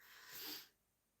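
A single quick sneeze, faint and breathy, rising in a soft hiss and fading within a second, with no talk over it.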